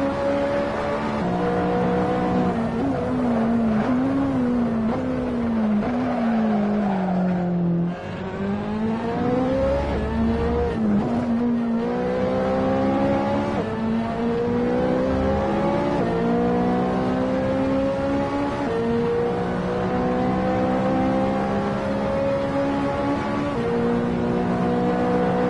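Race car in the video game Assetto Corsa on the Monza circuit, its engine rising and falling steadily through the gears as it laps continuously, loud and close, with no talking.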